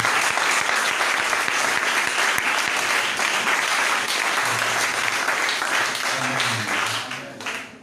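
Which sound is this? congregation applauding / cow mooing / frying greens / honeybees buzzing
congregation applauding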